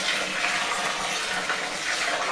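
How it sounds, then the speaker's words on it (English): Hot water poured into a vessel while brewing a Christmas ale, a steady, close, broadband gushing pour that runs without a break and without any talk over it. "And now we add some of this hot water."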